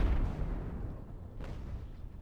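Ship cannon fire in the naval game Ultimate Admiral: Age of Sail, a deep rolling boom and rumble that fades out, with one more muffled crack partway through, heard without voices.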